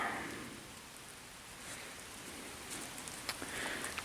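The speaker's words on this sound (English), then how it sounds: "In the rain." Steady, soft rain falling outdoors at Bowman Lake State Park, a faint continuous patter of drops on surfaces with a few slightly louder drips near the end.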